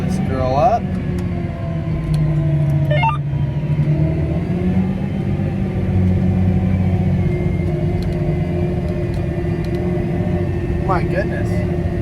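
An engine drones steadily under throttle as a vehicle with a locked differential pulls, a close, continuous low rumble with a few short squeaks and clicks on top.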